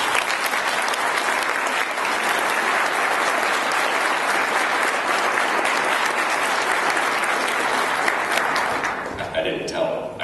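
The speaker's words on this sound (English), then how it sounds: "so please give him a round of applause." Sustained applause from an audience at a university scholarship convocation ceremony, steady dense clapping filling the hall for about nine seconds before tapering off, with a few voices mixed in.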